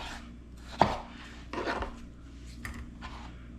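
A sharp knife cuts ripe tomatoes into large chunks on a cutting board in a home kitchen, with a few distinct, irregular chops and soft board knocks close by, and no talking.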